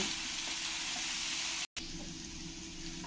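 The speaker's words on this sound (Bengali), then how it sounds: "এবার আমি এই মাছ ভাজা তেলের মধ্যে এই আলুগুলো ভেজে নেব।" Potatoes and green banana frying in leftover fish-frying oil with turmeric and salt, a steady, even sizzle throughout, briefly cut by a moment of silence before the frying resumes.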